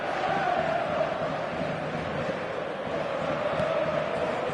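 Football stadium crowd during a match, a continuous broad roar of many voices holding steady throughout, restless and murmuring rather than erupting into cheers.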